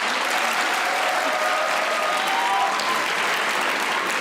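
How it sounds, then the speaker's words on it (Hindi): A studio audience at a TV comedy show applauds in a dense, continuous wash of clapping that holds an even level throughout, with no voices on top. "जिसको लगा साइम ने अच्छा हंसा वो तालियां बजाएं।"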